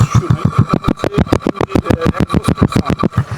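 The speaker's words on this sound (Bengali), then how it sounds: "আর একটু স্টার্ট দেবো বাইকটা" A 125cc motorcycle engine catches and runs close by, with a fast, steady chugging pulse that rises slightly in pace.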